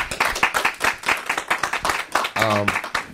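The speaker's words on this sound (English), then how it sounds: "Give Donnell a round of applause, please, if you don't mind." An audience at a talk on kingdom finances breaks into a burst of clapping, with sharp hand claps mixed under a speaking voice.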